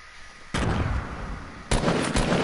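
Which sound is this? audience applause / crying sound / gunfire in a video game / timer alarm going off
gunfire in a video game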